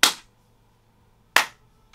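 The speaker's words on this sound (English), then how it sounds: "There's like this clap sound I want that's like the perfect blend of live and trappy" Two sharp, bright clap hits from a drum-kit clap sample mixing a live-handclap feel with a trap-style snap, each decaying quickly in a roomy tail, spaced over a second apart with a faint third blip at the end.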